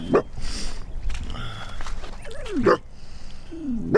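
Wild coyotes yip, whine and howl in rising and falling wavering calls across open country, several voices overlapping at moderate distance with faint rustling nearby.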